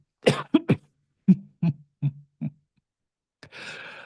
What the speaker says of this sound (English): Sometimes I cough beforehand.